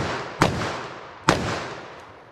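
Two sharp, loud gunshots from a .44 Magnum revolver, about a second apart, each with a short decaying echo and no talking, plus a faint third report near the end.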